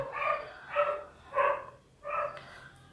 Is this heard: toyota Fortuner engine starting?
no